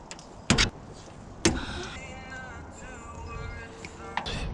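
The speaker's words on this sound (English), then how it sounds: "Prime the fuel pump." The electric fuel pump on a 1959 Rambler Ambassador, sitting for 39 years, primes on a cold day: a couple of sharp clicks, then a steady whirring buzz that runs on to the end.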